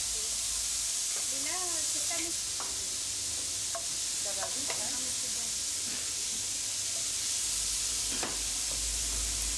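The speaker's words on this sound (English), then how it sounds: "Olive oil to fry the chopped vegetables. Celery and onion, carrot, and a few whole cloves of garlic" Chopped celery, onion, carrot and whole garlic cloves frying in olive oil give a steady, loud sizzle and hiss throughout, with a few clinks from stirring and faint speech-like tones partly buried in the frying noise.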